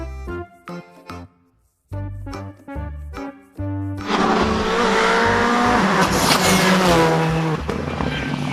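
Loud race car engine roar with wavering, squealing tones suggesting tires sliding, close and sustained after a few seconds of music.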